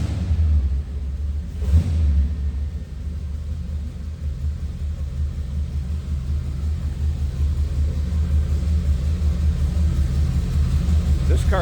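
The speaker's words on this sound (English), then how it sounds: "Take a listen. That old school flathead sound." A 1932 Ford Roadster street rod's flathead engine runs at a steady idle, a loud, continuous low rumble with a slightly uneven throb, heard up close and alone.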